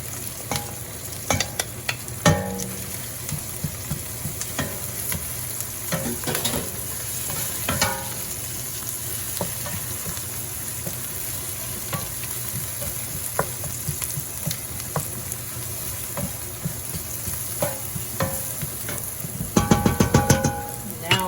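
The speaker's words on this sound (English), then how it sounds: "Okay, now I'm going to add the garlic in." Garlic frying in a pan for Cambodian beef with lime sauce, a steady sustained sizzle with scattered utensil clicks and scrapes, louder clattering stirring near the end.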